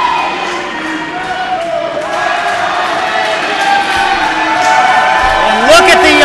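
A crowd at a PWE pro wrestling show roars and cheers in a sustained ovation, loud and continuous with voices rising and whoops near the end, while a commentator talks over it.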